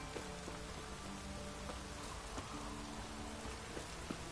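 Steady rain pours in a downpour in The Witcher 3, a dense hiss of drops falling on surfaces with occasional louder splats, along with faint low tonal game sounds beneath.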